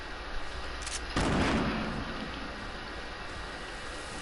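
A grenade blast in a video game: a sudden broad burst of noise that swells and then trails off into a long rumbling decay, loud against steady background noise.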